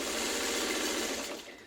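A sewing machine stitching two quilt block pieces together for a triple sawtooth star, a dense steady mechanical whirr that is close and continuous, then tapering off as it slows near the end.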